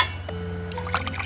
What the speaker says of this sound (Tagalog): Lagyan natin ng 1 cup ng coconut milk.